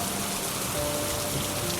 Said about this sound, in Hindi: बाहर बारिश लगातार बरस रही थी